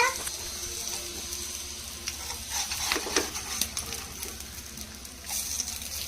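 An omelette fries in a pan with a faint, steady sizzle and light scattered crackles, close but quiet, with no clear talk over it.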